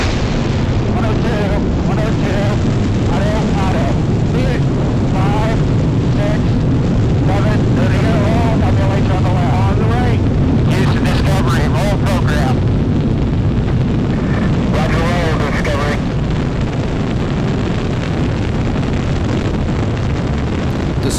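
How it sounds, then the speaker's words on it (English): A space shuttle launch with solid rocket boosters gives a continuous loud rumbling roar with crackling bursts throughout, while a voice talks over it. "There's a launch."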